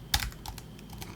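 Several quick, close key clicks come from a computer keyboard in a short, irregular burst of typing.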